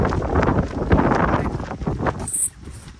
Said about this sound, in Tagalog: Sobrang lakas kasi ng hangin sa labas.